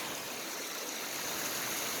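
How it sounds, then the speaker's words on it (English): Creek water running over a shallow rock bed in a sunny Oregon forest campsite, a steady close broadband rush and babble with no voices. "Creek running through."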